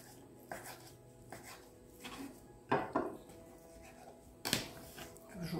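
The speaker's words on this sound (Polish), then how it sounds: "Kroję drobną kostkę łososia." A knife dicing smoked salmon on a board, with scattered soft taps and a few sharper chops spaced irregularly, fairly quiet and close.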